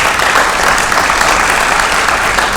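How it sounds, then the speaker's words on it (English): A large audience at a community college's 75th anniversary showcase applauds, a loud, dense and continuous roar of clapping that stays even from start to finish. "Let's give a round of applause again for that video."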